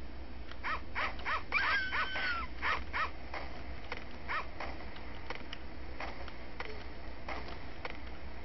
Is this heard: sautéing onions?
no